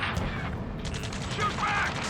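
Gunfire in the Ace Combat 7 mission Rescue, a dense, steady fusillade of rattling shots and mechanical clatter running throughout, with shouted combat voices mixed underneath.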